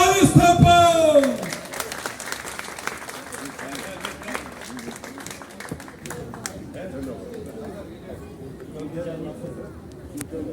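A crowd claps at a Turkish folk music concert in Çayırova. A loud burst of voice and music opens, then sustained applause with scattered sharp claps continues, with people talking underneath.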